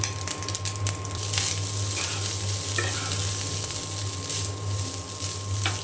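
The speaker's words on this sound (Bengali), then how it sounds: "আমি এসে এখানে ভাত ভাজি করে নিচ্ছি" Leftover cooked rice fries in a pan with a steady sizzle that runs the whole time, nearby, with a few scraping stirs on top and no talking.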